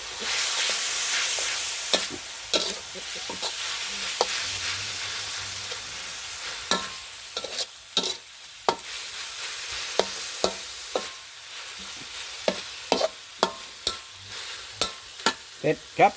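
Glass noodles are stir-fried in a pan for Thai pad kaprao with fried egg, starting with a soft sizzle and then turning into sharp, close spatula scrapes and clacks that come faster and louder toward the end.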